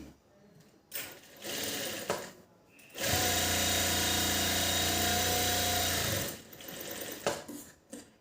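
A sewing machine stitches a seam on a blouse, running as one steady, loud, close whirring burst of about three seconds, with softer handling noises before and after.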